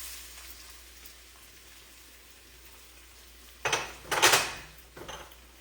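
Onion hits melted butter in a pan, a quiet low sizzle followed by a sudden burst of loud crackling and hissing along with a few clanks of a utensil against the pan, close up.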